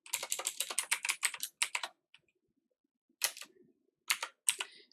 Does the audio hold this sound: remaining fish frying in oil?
no